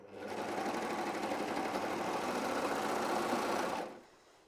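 A sewing machine stitches the short ends of a pajama armband together in one steady continuous run of about four seconds, loud and close, then stops.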